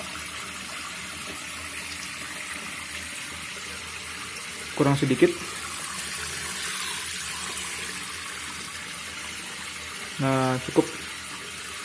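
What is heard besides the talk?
tap water filling a container to 200 ml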